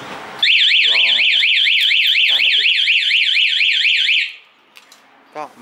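A KSR motorbike's anti-theft alarm blares in a loud, rapidly warbling siren that cuts in abruptly, holds for about four seconds, then stops, followed by faint handling noises.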